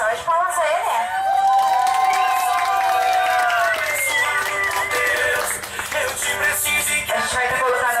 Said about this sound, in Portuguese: uma salva de palmas a ele